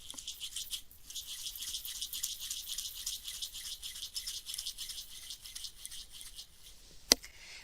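Threads being twisted by hand into a cord produce a steady, close, soft rattling and rubbing texture throughout, with a single sharp click near the end.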